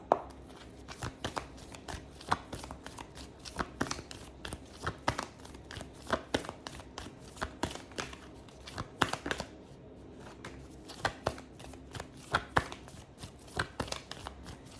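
A deck of tarot cards is shuffled and split over and over, giving a rhythmic run of crisp riffling snaps and soft flutters that are close and fairly quiet, with no speech.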